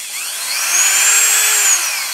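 A Hardell rotary tool fitted with a rubber sanding drum spins up on its low setting, a thin high-pitched whine rising in pitch and then holding steady, close and alone.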